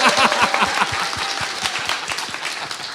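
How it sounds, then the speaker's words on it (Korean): Studio audience applause on a Korean talk show, a steady patter of many hands clapping at close range that slowly thins toward the end, with no talk over it. "강 기자한테 박수 한번 보내주세요"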